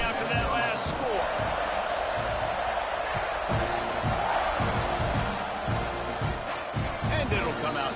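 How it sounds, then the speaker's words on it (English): Football stadium crowd buzzing after a touchdown run, a dense, continuous roar of many voices with scattered thumps and shouts, heard at a distance and joined by talk. "this crowd is buzzing after that last score"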